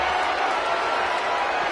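Wrestling arena crowd in WWE 2K25 roaring with steady, dense cheering and noise, a continuous wash of voices at even loudness with no breaks.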